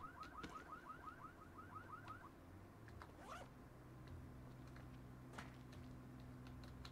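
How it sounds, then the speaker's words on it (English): A video-game alarm goes off, a rapid series of repeating rising electronic chirps in the first two seconds, followed by a low steady drone with scattered clicks and sweeps. "I set off another alarm."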